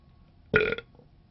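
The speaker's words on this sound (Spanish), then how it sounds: "El tema de hoy es eructos." A single short, loud burp, close up and alone against a quiet background.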